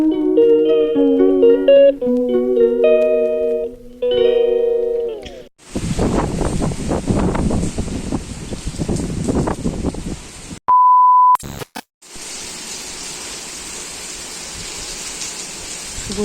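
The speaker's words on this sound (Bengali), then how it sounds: "ঘুম ভেঙেও দেখছি বৃষ্টি হচ্ছে" After a short electronic melody, steady cyclone rain pours down with a broad hiss, interrupted briefly by a loud single-tone beep before the rainfall resumes.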